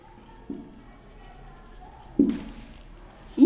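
A pen draws a line segment on paper, making a few faint, brief scratchy strokes against a quiet background.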